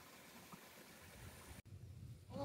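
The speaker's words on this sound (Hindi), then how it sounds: "ये इस पहाड़ के अंदर से ये चश्मा है और पानी बड़ा तेजी" A natural cold-water spring gushing out from inside a hillside at Kallar Kahar, giving a steady, soft rushing and trickling wash with faint gurgles, heard alone and at low level.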